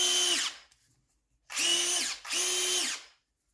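A Parkside PMBSA 4 A1 cordless drill runs in three bursts, a short one and then two longer ones back to back, each a high whine that spins up and winds down, loud and close with silence between.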